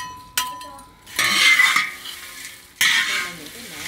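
Artichoke flowers dry-roasting in a large pan, stirred in loud scraping rushes with metallic clinks between strokes, close and with no talk.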